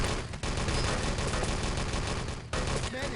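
Dense, rapid gunfire from Enemy Territory in a 6-on-6 LAN tournament match, loud overlapping bursts and volleys almost without pause, with two brief dips between clusters of shots.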